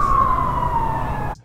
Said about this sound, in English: We've got a siren.